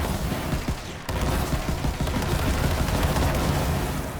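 Sawbar assault rifle from Borderlands 3 fires continuously at long range, a dense sustained rattle of loud rapid shots and impacts across the whole stretch, with no talk over it.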